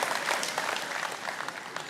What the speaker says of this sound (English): Can y'all give Blake a round of applause, and thank you.